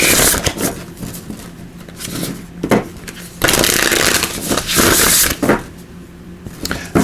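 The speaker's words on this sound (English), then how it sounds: "Give these a good shuffle" Oracle cards are shuffled in repeated riffling bursts, crisp and close, with brief pauses between runs.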